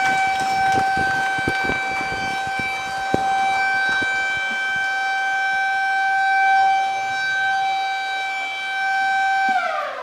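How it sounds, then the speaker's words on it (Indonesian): An electric siren marks the opening of the 29th Musabaqah Tilawatil Quran recitation competition in Ketapang Regency in 2021. It holds one loud, sustained tone for about ten seconds over a few scattered knocks, then cuts off. "bunyi sirine menandai dimulainya seluruh rangkaian kegiatan Musabaqah Tilawatil Quran ke-29 tingkat Kabupaten Ketapang pada hari ini"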